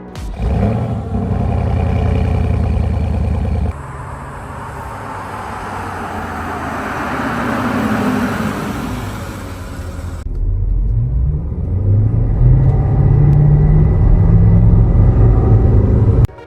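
A 2009 Porsche Cayenne Turbo S 957 with a 4.8-liter twin-turbocharged V8 in Need for Speed: a loud, steady engine roar that shifts in pitch with abrupt changes, as though gears change and the camera cuts, then rises again near the end.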